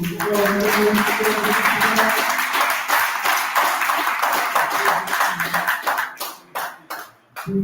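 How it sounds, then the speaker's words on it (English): Loud, dense audience applause at a cricket club recognition event, steady clapping for most of the stretch before breaking into scattered claps and fading toward the end, with a voice briefly audible beneath. "we got one more round of applause"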